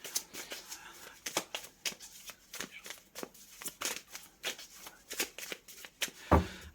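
Tarot cards are shuffled by hand in a steady run of crisp riffling bursts, quiet and close, ending with a sharper tap near the end.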